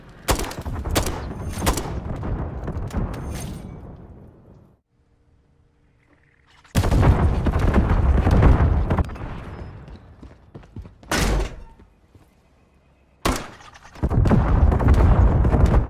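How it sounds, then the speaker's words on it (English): Rapid bursts of gunfire in Modern Warfare III on the Rio map, loud clusters of shots and explosive blasts separated by short silences, repeating in several intense volleys. "And then again, just start shooting as fast as you can."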